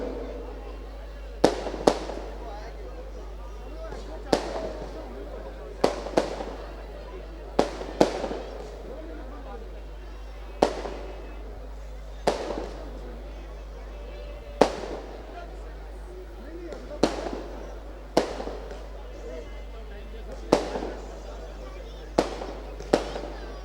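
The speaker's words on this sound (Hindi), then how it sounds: "आतिशबाजी बंद कीजिए" Fireworks crack and bang in a long irregular series at a Vijayadashami festival celebration, sharp loud reports spaced a second or two apart over a steady low hum, with someone speaking over a loudspeaker between them.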